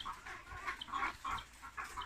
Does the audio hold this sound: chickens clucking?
yes